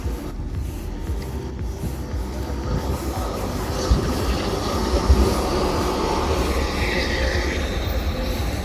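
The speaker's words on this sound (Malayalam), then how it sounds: "ഇതൊരു പഴയ ട്രാമാണെന്ന് തോന്നുന്നു" An old tram in Zurich rumbles past nearby with a steady low roar, occasional clanks and faint wheel squeal, continuous throughout.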